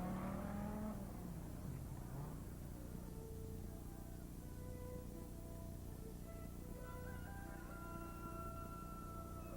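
Rally cars on the Hong Kong to Beijing rally driving off at dawn, engines revving and accelerating as they pull away, with a rising tone and a car passing, moderately near and unaccompanied by talk.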